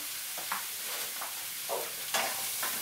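Mushrooms, spring onions and garlic for a spaghetti carbonara with a twist sizzle softly in a pan, with several brief scraping stirs spread through the clip. It stays fairly quiet, with no talking.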